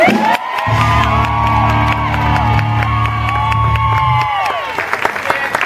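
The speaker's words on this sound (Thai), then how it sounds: "เสียงปรบมือต้อนรับนะครับ" A crowd claps and cheers loudly, with whoops and shouts over sustained applause that continues throughout.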